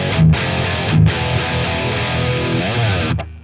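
Electric guitar played through an STL AmpHub amp simulator with an Extreme clean booster pedal driving the amp: loud, mildly distorted chords ring out in a few separate strums, then sustain and cut off sharply at the end.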